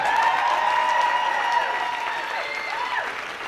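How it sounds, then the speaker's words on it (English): An audience at a gala applauds steadily, with a few whoops and tones rising over the sustained clapping, holding at a constant level throughout. "Give them all a big round of applause for taking time"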